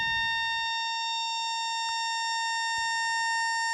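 A steady synthesizer tone, a sine wave being wave-folded into stacked bright harmonics, holds throughout, with two brief clicks partway through; electronic, constant, and alone.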